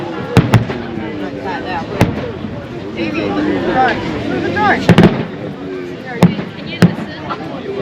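New Year fireworks burst over the Derwent River in Hobart, seen from the Cenotaph: sharp booms and crackles at irregular intervals, some close together, with a crowd chattering and cheering throughout.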